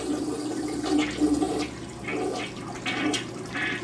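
A toilet with a newly fitted flapper, set to its strongest flush, flushes close by: a loud, churning rush of water that surges and gurgles for several seconds, with no talking.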